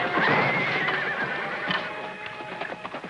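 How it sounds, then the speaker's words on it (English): A horse whinnies loudly and close by, a rising then falling neigh over the first second or so, followed by softer snorting and shuffling, with hoof clip-clops scattered through the rest. "That must be the kid's horse"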